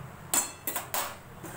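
Metal spoons clinking inside a cutlery box in a home kitchen, four short bright rattling clinks at irregular spacing, close and fairly loud with quiet in between.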